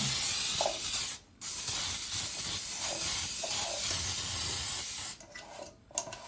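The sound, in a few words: cooking spray on cake pan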